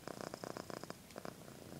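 A cat purrs softly and close, a quiet rhythmic rumble pulsing in short regular bursts before fading near the end.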